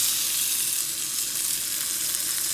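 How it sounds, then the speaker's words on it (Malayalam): Mango pieces sauté in ghee in a pan with a steady, bright sizzling hiss, continuous and close, without talking. "ഈ മാങ്ങേനെ ഈ നെയ്യിൽ ഇട്ടിട്ട് നമുക്ക് വഴറ്റിയെടുക്കാം."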